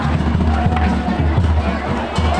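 A dense crowd fills the Chaitola fair with a loud, close babble of many voices and scattered shouts, while someone talks over it.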